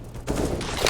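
A flashbang grenade goes off in Counter-Strike: Global Offensive after a quiet start, with a sudden loud burst around a quarter second in that holds as dense, sustained gunfire-like noise to the end.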